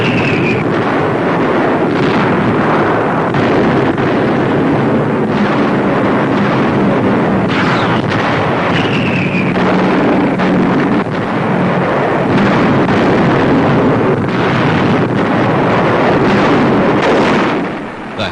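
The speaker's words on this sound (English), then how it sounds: "North of Rome, bombs hit two important bridges." Bombs bursting on two bridges north of Rome during World War II, a continuous heavy rumble of blasts and roaring wind-like noise in an old newsreel recording, loud and dense throughout with no voices.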